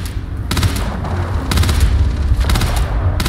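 Gunfire in the Starfield video game, loud rapid bursts of automatic shots repeating roughly once a second in close, punchy volleys over a constant rumbling background.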